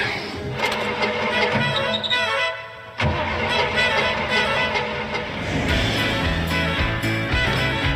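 A car engine starting and running, loud and close, with a brief cut near the middle before it carries on with a rising mechanical whine and rumble.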